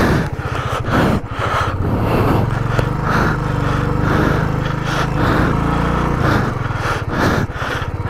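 A KTM 390 or Pulsar motorcycle stuck on a snowy mountain road between Kaza and Delhi, its engine revving hard and labouring in a loud, continuous drone with surging pulses, no talk over it.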